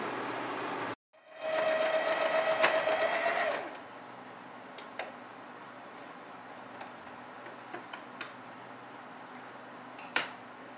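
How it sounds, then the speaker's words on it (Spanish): An overlock sewing machine runs in one loud, close burst of about three seconds, stitching the shoulder seams of a faux leather jumper, then stops, leaving a quiet room with scattered small clicks and handling taps. "vamos a realizar costura por los hombros realizando un overlock en el orillo"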